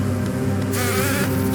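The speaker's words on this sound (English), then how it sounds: "These bees can turn into drills." Bees buzz in the Hollow Knight video game, a steady droning hum with a nasal, insect-like whine that swells and gets brighter partway through, loud and close and heard alone.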